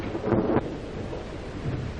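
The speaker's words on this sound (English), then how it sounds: "Storm's just as bad as ever, isn't it?" A storm rumbles on, heavy rain hissing steadily while a low roll of thunder swells briefly near the start and then fades back into the downpour.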